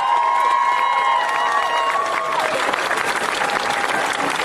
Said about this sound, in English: Give her a big round of applause, really appreciate that.